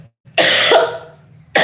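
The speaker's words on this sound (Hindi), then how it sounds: "बस शाम के टाइम कुछ ज़्यादा खांसी आवे लगा 7 बजे के बाद।" A person with a lingering cough of about two weeks coughs loudly and close up: one harsh burst followed by a second starting just before the end, with near silence between.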